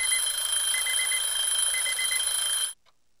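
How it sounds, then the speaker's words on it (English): An electronic alarm in the video game Escape First rings as a loud, continuous pulsing tone for nearly three seconds, then cuts off abruptly into silence. "This alarm's going off."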